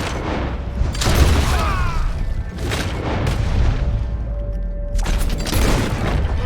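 Gunfire in the video game Red Dead Redemption 2, a series of loud booming shots spread over several seconds against steady in-game background noise.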